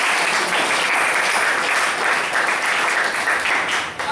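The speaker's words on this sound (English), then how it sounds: "So a round of applause to" A Toastmasters meeting audience claps steadily after an evaluation, a dense, loud wash of many hands that holds evenly throughout and tapers only at the very end.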